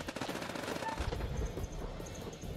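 Sustained gunfire rattles through a firefight in the video game The Dark Pictures Anthology: House of Ashes, dense automatic bursts with heavy low booms, loud and continuous, high chirps near the end.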